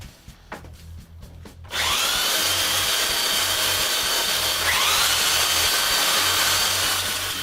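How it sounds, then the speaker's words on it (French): After a few light taps and handling knocks, a power sander starts up and grinds steadily against the protruding glued wooden mortise ends of a clamp rack frame, loud and close with a slight pitch dip midway, no talking. "il ne reste plus qu'à sabler le bout des mortaises"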